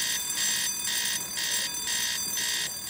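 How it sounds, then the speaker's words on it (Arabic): A loud alarm bell rings in a bank, pulsing in steady bursts about every half second for the whole span, with no talk over it. "إيه على طول كده جرس إنذار"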